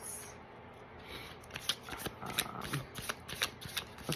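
Fairy oracle cards being shuffled by hand: soft rubbing slides give way to a brisk run of papery riffles and flicks, close and fairly quiet.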